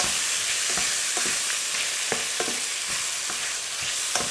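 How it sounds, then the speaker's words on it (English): Kimchi, pork and onion stir-fried over high heat in a hot pan, a steady loud sizzle broken by repeated scraping strokes of the spatula at an irregular beat, close up with no talking. "I'm still keeping the heat on the pan on a relatively high because I really want that onion to caramelize"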